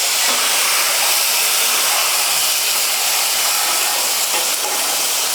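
Loud, steady broadband hiss of water steaming off a hot griddle, continuous throughout with no pauses.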